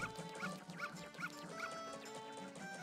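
Repeated video-game dog barks from The Legend of Zelda: Majora's Mask, about five short yaps at a steady half-second rhythm over game music, fairly loud and close.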